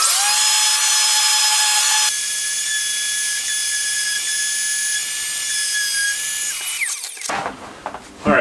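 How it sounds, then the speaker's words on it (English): A power sander works on the fiberglass of a tank top outdoors in frigid cold, a steady loud high-pitched whine that runs unbroken for several seconds, then winds down and cuts off near the end. "get us hooked up to power so that I can get the sander and just clean up that spot"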